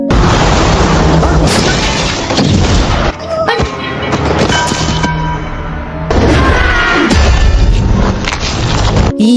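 Film scene of a vehicle crashing through a factory as concrete falls, heard as loud booming impacts and crashing debris in heavy bursts, with a brief lull in the middle before another violent surge.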